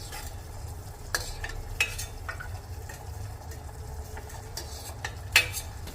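Spoon lifting cardamom peels out of boiling sugar syrup in a pan while making flour barfi: soft bubbling and stirring with a few faint metallic clinks against the pan, quiet and close.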